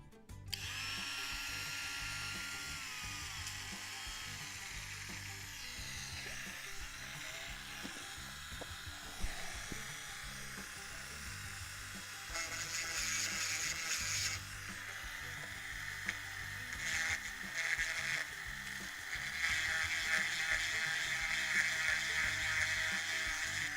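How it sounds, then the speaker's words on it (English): High-pitched whirring grind of a small rotary tool shaping a metal part of a Dan Wesson revolver, continuous and fairly faint, with the pitch and intensity shifting as pressure changes. "Let's see if we can get this ground down to that little shape."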